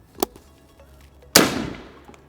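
Two shots from a traumatic pistol firing rubber bullets: a short sharp crack, then about a second later a louder, closer report that rings out and fades. There is no talking.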